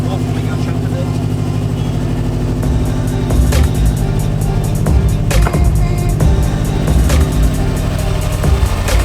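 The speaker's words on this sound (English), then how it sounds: "we got the car started up just fine" A 2017 Subaru STI with a newly installed intake and intercooler runs steadily close by, a loud continuous engine drone with a few sharper rev blips, while people talk over it.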